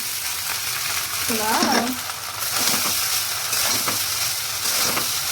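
Rice is tipped into a hot pan for basanti pulao and stirred, a dense frying hiss with scraping stirs and a brief rattling pour, close and steady throughout.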